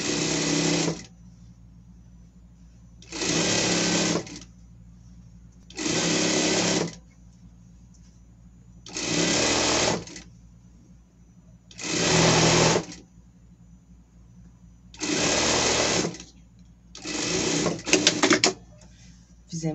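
An electric sewing machine stitches the top and bottom hems of summer pet clothing in about seven loud, close bursts of rapid whirring, each a second or two long. Quiet pauses and faint room sound fall between the bursts.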